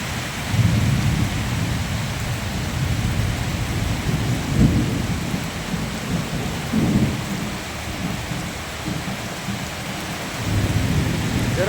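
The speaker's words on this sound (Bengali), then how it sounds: "বজ্র পড়তেছে।" Deep thunder rumbles roll through a heavy rainstorm in a village in Nadia, with steady downpour hammering surfaces throughout and a few louder crashes rising above the rain.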